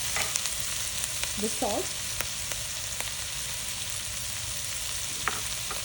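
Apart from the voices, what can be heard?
green peppers (Shimla mirch) frying in a pan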